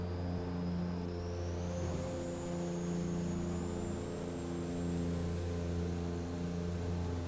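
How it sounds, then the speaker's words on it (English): A Toyota Supra A80 turbo in the racing game Assetto Corsa drones at a steady engine note, with a thin high turbo whine rising slowly and holding above it, continuous and fairly quiet. "now listen to the turbo."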